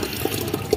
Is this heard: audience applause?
no